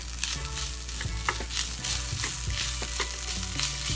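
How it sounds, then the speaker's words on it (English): Tomato paste being stirred into garlic and spices dry-frying in a pan, a steady close sizzle with scraping utensil strokes throughout. "And just mix that in."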